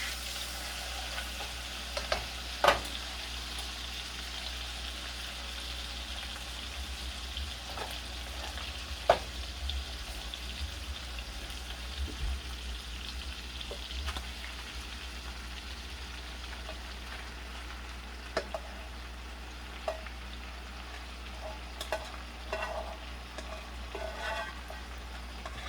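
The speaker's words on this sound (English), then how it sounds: "Michelle's gonna add our rice to the Polish sausage." Rice stirred into Polish sausage (kielbasa) frying in a pan, a soft, low steady sizzle with occasional light clicks and scrapes from stirring, no one speaking over it.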